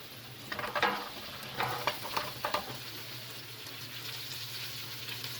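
Okra hitting hot oil in a pan, a steady sizzle of frying with a few scraping stirs and clatters early on, continuing evenly afterward.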